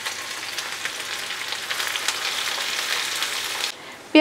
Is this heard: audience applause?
no